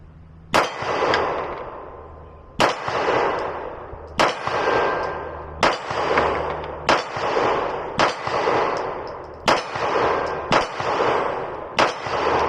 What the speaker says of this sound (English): So I'm going to just do a little bit of slow shooting, just see how well I do.